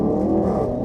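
Engine of a 2020 Range Rover Sport pulls under acceleration, a loud, steady low rumble and drone close by, with no voices over it.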